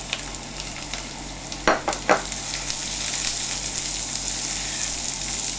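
Rice stirred in hot fat with softened onions and a crushed garlic clove for risotto, a steady soft frying hiss with a couple of sharper scraping stir strokes midway, close and moderately loud.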